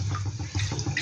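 Water poured into a cooking pan while making Bengali prawn muitha: a brief, close splashing trickle with uneven gurgling pulses lasting about a second, heard alone.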